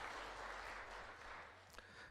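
Congregation applauding during a church service, a steady wash of clapping from many hands that carries on at a low, even level and slowly fades.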